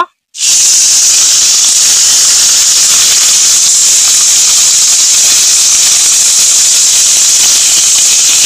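Fish fries in hot oil in a wok, starting with a sudden loud, steady sizzling hiss that carries on without a break after a brief silence.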